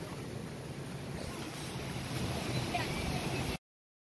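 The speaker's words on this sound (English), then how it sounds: "What is that? Waterfall." Taughannock Falls, a waterfall in the Finger Lakes region of upstate New York, gives a steady broadband rush of falling water, loud and continuous, with some wind buffeting.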